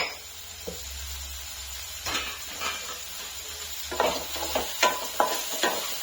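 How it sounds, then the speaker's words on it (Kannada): Chilli and fine semolina for upma frying on a low flame, a soft steady sizzle with intermittent scraping and stirring strokes that grow more frequent toward the end. "ಇದನ್ನ ಮಾತ್ರ ಚೆನ್ನಾಗಿ ಲೋ ಫ್ಲೇಮಲ್ಲಿ ಇಟ್ಕೊಂಡು ಫ್ರೈ ಮಾಡ್ಕೊಂಡ್ಬಿಡ್ತೀನಿ"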